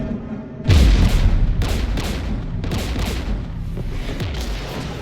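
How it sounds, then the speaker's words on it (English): Weapon fire and explosions in Mass Effect 3, where a heavy boom opens into a dense barrage of rapid shots and blasts that continues loudly to the end. "We're taking fire."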